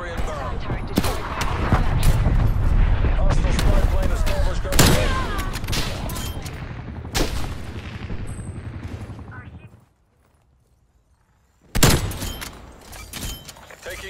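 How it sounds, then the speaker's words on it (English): Artillery fire in the video game Call of Duty Black Ops Cold War, heavy booming blasts and gunfire rolling loudly for several seconds, then a brief near silence before another sharp burst, with game voice lines mixed in. "Hostile artillery targeting active."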